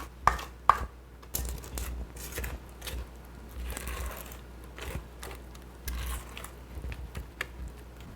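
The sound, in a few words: scraping down a mixing bowl of cream cheese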